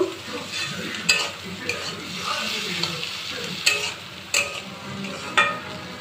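Chana dal and cabbage are stirred in a frying pan over a soft, constant sizzle, with a few sharp clinks of the utensil against the pan at irregular moments.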